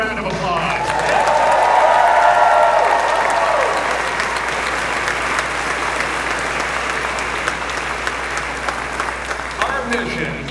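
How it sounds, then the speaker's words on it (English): Large audience at the NASA Artemis II crew announcement breaking into sustained applause with scattered cheers, loud and dense at first, then easing into steady clapping that fills the room. "Let's give them another round of applause."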